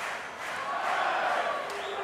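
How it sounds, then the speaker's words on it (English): A crowd at a FIVB Beach Volleyball World Championship match between Russia and Austria roars and cheers in a broad, sustained swell, loud and near, with no clear voice above it. "Every point is going to be greeted with the biggest cheer, for Austria at least"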